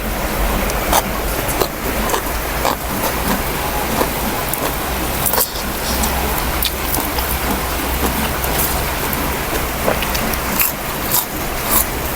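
Rain falling steadily through the night and day, a dense, loud, continuous hiss with scattered sharper taps and drips throughout and no talk.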